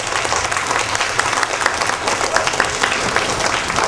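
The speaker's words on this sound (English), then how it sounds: "give one big round of applause of thanks to this guy right here" A room audience gives a loud, sustained round of applause to thank a ham radio operator, with dense even clapping and no talk.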